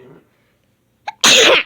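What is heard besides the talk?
sneeze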